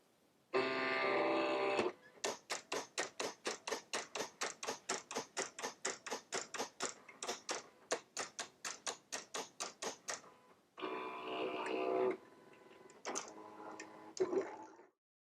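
Silhouette Cameo cutting machine cutting a hotfix fabric design, a rapid series of sharp, regular mechanical ticks and carriage strokes alongside short motor whirs at the start and end, close up with no talking.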